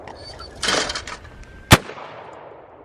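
A single sharp, loud gunshot at an outdoor shooting range, preceded by a burst of fainter rustling noise, with a short fading echo after the crack.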